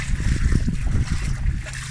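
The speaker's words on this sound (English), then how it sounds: "you can hear the water" Floodwater rushing through a flooded Townsville street in 2019, a steady broadband roar and wash of moving water heard up close, continuous and fairly loud with wind buffeting the microphone.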